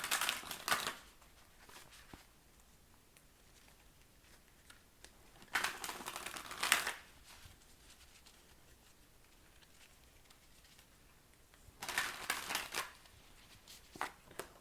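Tarot cards shuffled in three short, crisp riffling bursts spaced several seconds apart, close and fairly quiet, with near silence between them.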